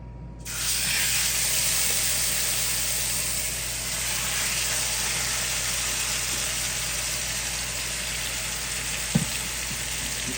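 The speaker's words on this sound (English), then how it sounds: "We're going to quick saute these just until they start to sizzle a little bit" Lamb sizzles loudly as it sautés in a hot pan, a constant crackling hiss that holds steady throughout, with a faint clink near the end.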